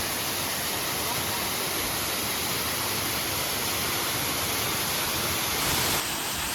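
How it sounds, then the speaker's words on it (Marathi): Dense, steady roar of a large waterfall in the Sahyadri hills near Vasota, loud and unbroken throughout, like heavy rushing water nearby. "हा केवढा मोठा धबधबा आहे"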